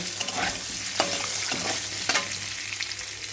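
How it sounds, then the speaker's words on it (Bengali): Potatoes frying in hot oil with a little turmeric, a steady close sizzle with scattered crackles and the scrape of a stirring spoon, no voices. "হালকা একটু হলুদ দিয়ে ভেজে তুলে নেব"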